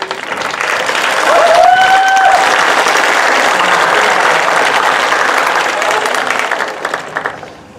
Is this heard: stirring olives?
no